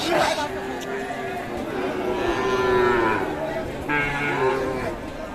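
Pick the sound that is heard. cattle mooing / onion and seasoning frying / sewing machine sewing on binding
cattle mooing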